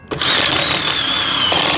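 A cheap $40 impact driver fitted with a drill bit whirs up after a brief start and runs at a steady, loud, high-pitched drone throughout, close by with no talking.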